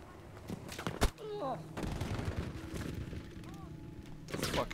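Sniper rifle shots in the World War II shooter Battlefield 5, a sharp crack near the one-second mark amid sporadic distant gunfire and battlefield noise, with game voices chattering over it.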